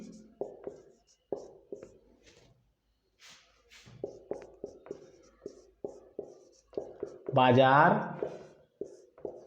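Chalk scratches out short, quick strokes on a classroom board during a lesson, mostly in the opening seconds, while a teacher talks over and after it.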